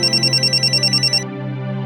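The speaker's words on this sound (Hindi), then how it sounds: "दीदी, फोन बज रहा है, फोन उठा लो वरना मैं रिंगटोन पे नाचने लगेगी" A phone ringtone chimes in a quick repeating pattern of bright electronic tones for just over a second, then cuts off, leaving a low hum.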